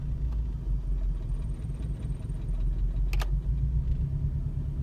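A 1999 Toyota 4Runner idles roughly with a window down, giving a steady, close low rumble throughout with a brief faint click partway through.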